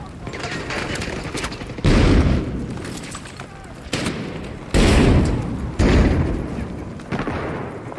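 Video game battle with a thrown frag grenade: bursts of gunfire and heavy booming blasts strike in repeated loud waves, with rumbling decay between them.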